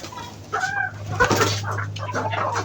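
A hen in a cage on a rooftop clucks in short, uneven bursts close by, with a brief rustle or wing flap partway through.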